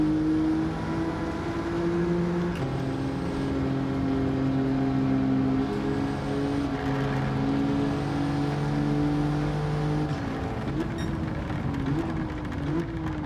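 An Alfa Romeo Giulia GTAm races in Gran Turismo 7, its engine note holding steady tones that step up and down through gear changes, loud and continuous with no talk.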